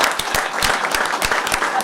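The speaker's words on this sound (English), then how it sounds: "You guys can clap for him." An audience at a county freeholder public meeting claps briefly for an honoree, a short burst of moderately loud, uneven handclaps.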